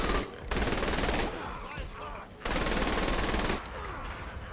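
Heavy automatic gunfire in the Saints Row: The Third Remastered video game, loud sustained bursts of rapid shots broken by short pauses, dense and close throughout.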